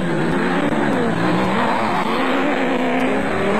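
Nissan hardbody off-road race vehicles at a desert off-road race in South Africa, their engines roaring loud and steady throughout with a continuous droning rasp and no break.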